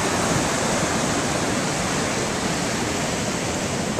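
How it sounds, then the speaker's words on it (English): A huge volume of rushing water roars in a dense, unbroken wash of noise, close and steady throughout, with no voices. "It's a lot of fucking water."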